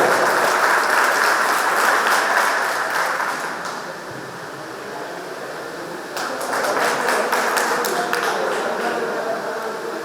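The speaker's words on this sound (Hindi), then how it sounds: "जोरदार तालियां।" Audience at an association AGM applauding loudly and continuously for ten seconds, a dense roomful of clapping that dips briefly in the middle before surging back up.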